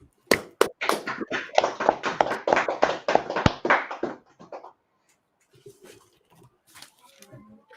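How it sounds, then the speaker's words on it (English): Audience at a gathering in Harlem, New York, breaks into brisk, loud applause for about four seconds, then fades to scattered claps and faint voices. "All right, clap it up"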